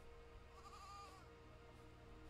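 A baby sheep bleats in the video game Aer: one faint, wavering bleat rises briefly over a constant low background hum.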